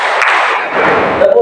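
A classroom of students claps together in a counted rhythm pattern: a dense, loud burst of many hands clapping at once, close and continuous.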